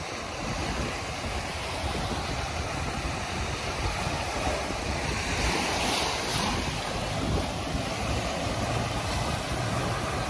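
Strong ocean waves surge and crash onto the shore at Dolomite Beach on Manila Bay, a steady loud roar of surf mixed with wind buffeting the microphone, no talking throughout.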